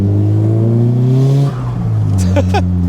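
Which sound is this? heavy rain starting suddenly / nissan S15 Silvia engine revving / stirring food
nissan S15 Silvia engine revving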